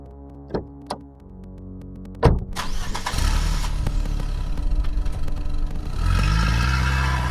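A few light clicks of a car key fumbling at the ignition in a Godot video game mini-game, then a loud engine crank that catches and settles into a steady running rumble.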